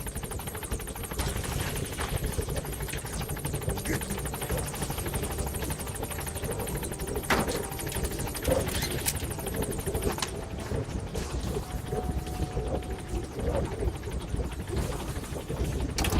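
Game helicopter B-Quad hovering on station at a landing zone in Metal Gear Solid V, a steady loud rotor and engine roar filling the whole clip without pause, with faint birdsong behind it.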